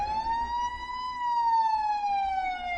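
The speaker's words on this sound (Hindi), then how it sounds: "तभी दरवाजे से पुलिस सायरन्स की आवाज सुनाई दी" Police siren wailing in a single slow rising and falling sweep with strong harmonics, steady and clear over faint low rumble, moderately near and alone without voices.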